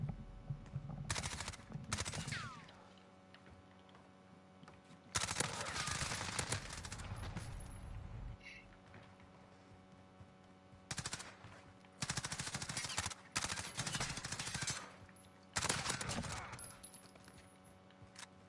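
Bursts of automatic weapon fire in a 1v1 shooter video game, loud and close, rattling in long sustained strings separated by brief pauses, with occasional speech faintly underneath.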